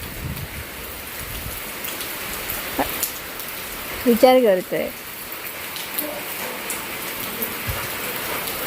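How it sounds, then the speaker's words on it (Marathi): Steady heavy rain pours during a wind storm, a dense even hiss throughout, with a voice speaking briefly midway. "वार वादळ पाऊस आहे वादळ बघा"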